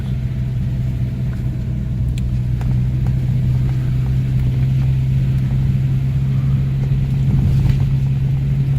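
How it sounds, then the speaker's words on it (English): A steady, low idle from a Mk1 Renault Clio 1.2 D7F engine with a faulty idle control valve, a strong constant hum and faint ticking, running alone at an even level throughout. "it even sounds like an old sort of car"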